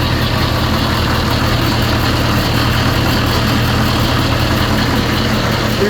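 A John Deere 2020 tractor engine idles steadily at close range, a continuous low throbbing rumble with even vibration and no speech over it for the full stretch.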